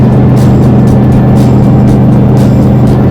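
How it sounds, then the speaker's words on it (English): A car drives along a road, its steady, loud interior engine and tyre drone humming low and continuous while the vehicle rolls on, with faint periodic whooshes and no talking. "So, driving down to my buddy James' place"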